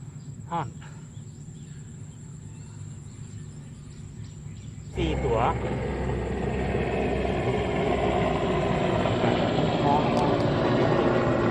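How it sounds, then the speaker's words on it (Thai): An airplane passes overhead outdoors, its broad roar swelling abruptly partway through and holding steady and loud over a background of chirping insects, with faint voices now and then. "เครื่องบินด้วยนะครับเนาะ"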